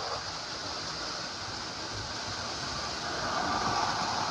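A 1946 Lionel toy electric train set with a 1666 steam locomotive runs continuously with a steady whirring rumble and hiss, growing slightly louder toward the end.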